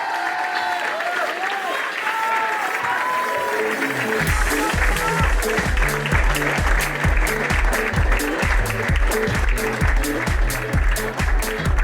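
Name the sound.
applause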